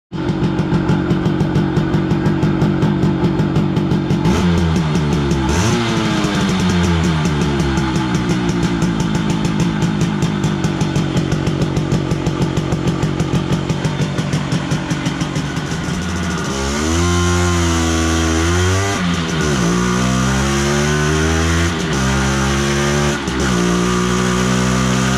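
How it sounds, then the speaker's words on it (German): A Simson 50cc moped with a tuned Almot cylinder and a ZT-Tuning AOA exhaust with adjustable counter-cone, running close up: a loud buzzing two-stroke idle, then repeated sharp revs rising and falling. "schauen und hören wir uns als nächstes die Klangkulisse des Auspuffes an."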